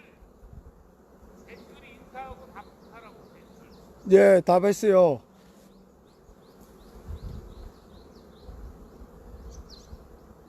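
Bees buzz around a beekeeper, a steady droning hum throughout with a loud close pass in the middle, while someone speaks Korean briefly.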